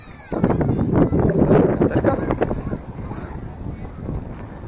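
Wind gusting across a microphone in an Olympic Park beside the big stadium, a loud, broad rushing buffet that surges, then eases into a steadier blow.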